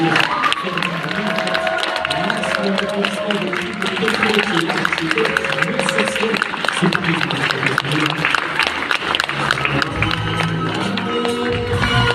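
A crowd applauds and cheers at a live stage show in Bray-Dunes as a guest walks on, steady clapping running underneath music with sustained tones and a low thump near the end.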